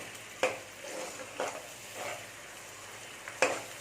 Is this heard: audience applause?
no